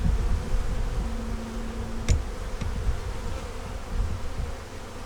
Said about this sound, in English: They're down at the bottom little entrance here now and having a discussion with some other bees